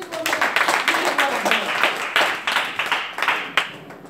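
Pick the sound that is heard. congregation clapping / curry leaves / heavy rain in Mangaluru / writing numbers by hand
congregation clapping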